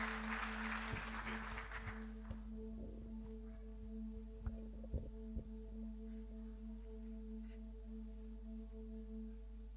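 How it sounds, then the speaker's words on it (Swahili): A church congregation at a Covenant Renewal Sunday service bursts into brief applause at the start, and it fades within a couple of seconds. A steady electrical hum and a few scattered knocks follow in a fairly quiet room. "Wapigieni makofi tena"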